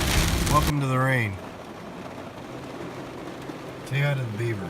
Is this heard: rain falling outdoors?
yes